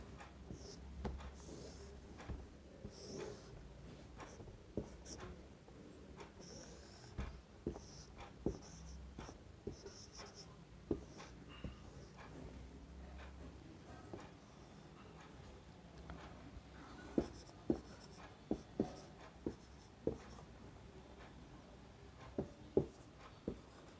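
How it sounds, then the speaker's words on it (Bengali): A pen scratches on paper while a math problem is copied down, producing faint, steady strokes with scattered light taps in a quiet room. "তাহলে আমি অঙ্কটা আগে টুকে নিই।"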